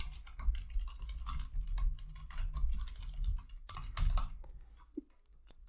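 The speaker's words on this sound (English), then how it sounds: "we're just gonna type this command" Command being typed on a computer keyboard while setting up an Ubuntu server, with irregular bursts of close, clicky keystrokes and brief pauses, no talking.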